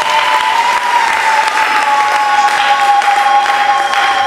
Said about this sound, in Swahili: Chapie makofi